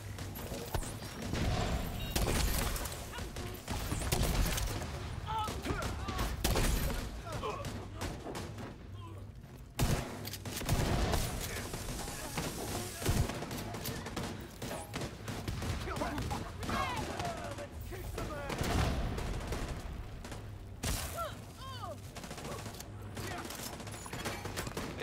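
Gunfire from The Division video game fills a busy, dense mix of shots and mechanical clatter throughout, with game voices speaking over the action.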